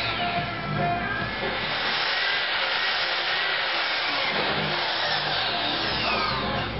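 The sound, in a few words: cutting an aluminum plate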